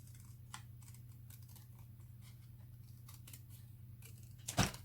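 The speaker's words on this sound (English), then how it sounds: "And then just cut around just to get you," Scissors cut around the border of a sheet of cardstock for a Christmas card, making a run of quiet, close snips ending in a louder final crunch, with no talking.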